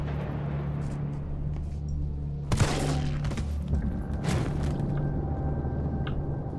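Bursts of rapid gunfire in the video game Resident Evil 3 Remake crackle against a steady electronic hum, with a couple of sharper volleys in the middle.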